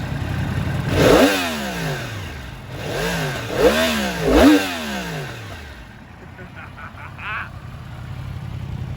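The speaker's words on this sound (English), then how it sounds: "revving the engine that hard" A 2016 Yamaha YZF R1 S sport motorcycle engine revs hard three times, each rise and fall sharp and loud, then settles into a rough idle with a faint voice nearby.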